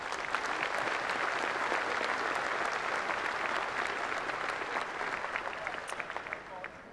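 A crowd claps steadily and loudly throughout for exhibitors and breeders at a Holstein cattle show ring, a dense, sustained round of applause that tapers slightly toward the end.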